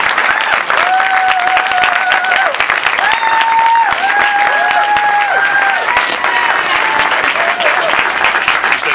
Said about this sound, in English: please give a round of applause for Keith Olbermann